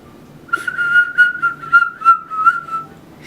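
Someone whistles a short wavering tune near one steady pitch, several breathy phrases in a row, close and clear.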